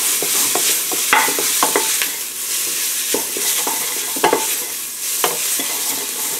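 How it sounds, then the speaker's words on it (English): Cumin toasts in frying oil, sizzling steadily in a pan while a utensil stirs and scrapes with scattered clicks and taps, close and fairly loud, no voices. "you want to toast that a little bit in the frying oil"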